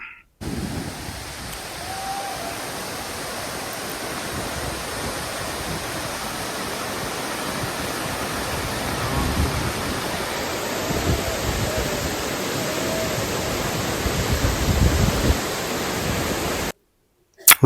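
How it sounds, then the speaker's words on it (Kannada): Hebbe Falls in Chikmagaluru pours in a steady, broad rushing roar of falling water, loud and continuous, briefly cut off at the very end, with no talking. "ಇದೆ ಹೆಬ್ಬೆ ಫಾಲ್ಸ್, ಸಕ್ಕತ್ತಾಗಿದೆ ಹೆಬ್ಬೆ ಫಾಲ್ಸ್."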